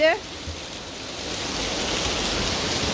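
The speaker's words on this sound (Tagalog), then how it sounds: "Malakas ang ulan guys." A brief high tone opens, then heavy rain hisses steadily, growing slightly louder as it drums continuously on a surface.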